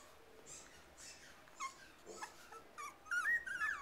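Three-week-old puppies whimper and yip in short, thin high-pitched cries, scattered and faint at first, then growing into a louder cluster of squeals near the end over a quiet background.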